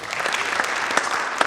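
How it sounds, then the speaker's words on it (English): An audience at a fall sports athletic signing day bursts into a short round of clapping, a brief dense patter of many hands that ends quickly. "Can we give her 2 claps?"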